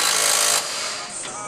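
A new impact wrench works at a 17 mm bolt on a Mazda Miata during a bushing change, giving a loud close buzzing hammer that stops abruptly, then a lower residual rattle and a brief second burst.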